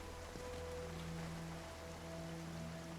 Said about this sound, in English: it's hard to hear over the rain